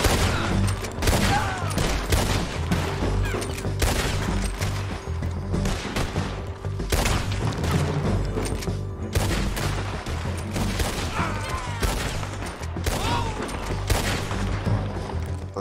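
Repeater rifle gunfire in the Red Dead Redemption 2 game, a loud, dense run of shots and booming reports crackling almost continuously over a rumbling battle din, with no talk over it.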